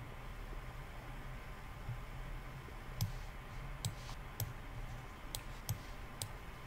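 Several crisp keyboard key presses, including the enter key, tap out irregularly over a steady low hum, close but faint, with no talking.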